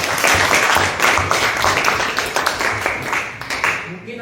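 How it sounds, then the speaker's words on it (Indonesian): Audience applause in a classroom or teaching session on artificial intelligence, a dense steady crackle of many hands clapping for about four seconds with some voices mixed in. "Tepuk tangan dulu di sini."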